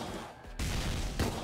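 Explosions in Risk of Rain 2 burst out as two loud, harsh blasts about half a second apart, the second rumbling slightly deeper.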